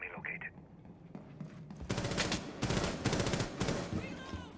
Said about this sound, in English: Ah, I missed my shot.